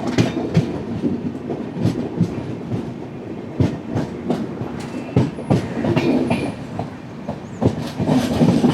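The Netravati Express runs non-stop on rails between Kuttippuram and Shoranur in Kerala. Rhythmic clickety-clack wheel beats repeat over a continuous rolling rumble, heard close from on board.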